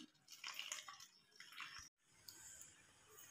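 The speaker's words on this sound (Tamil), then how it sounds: "இப்போ தண்ணியை கொஞ்சம் கொஞ்சமாக ஊற்றி மிக்ஸ் பண்ணிடலாம்." Water trickling and dripping into a bowl of gram flour batter for bread bajji while it is mixed, faint splashy pouring that stops abruptly, then a quieter wet mixing sound.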